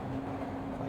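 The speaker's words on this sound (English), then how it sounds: "I hear the train a coming." A train in the video game Broken Sword rumbles steadily with a dense low drone and a held tonal hum, continuous and fairly loud throughout the short stretch with no talk.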